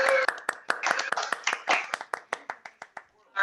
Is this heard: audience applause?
yes